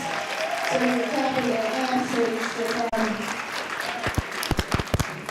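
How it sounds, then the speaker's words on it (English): An awards-ceremony audience claps for absent honorees at a scholarship cotillion. Steady applause runs under a voice for several seconds, then thins to a few scattered, separate claps at the end. "So I just want to give a clap in their absence."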